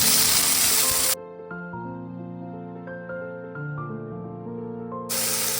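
Jujube fruit hits hot oil with fried ginger, giving a loud, dense sizzle at the start that breaks off into sustained musical tones, then the sizzle surges back at the end.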